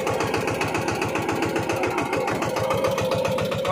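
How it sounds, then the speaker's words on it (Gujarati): A tractor engine at a cotton farm runs steadily close by, its rhythmic mid-pitched chugging loud and continuous, with the tone sagging slightly as load comes on. "ટ્રેક્ટર એટલું આરપીએમ ડ્રોપ કરે છે,"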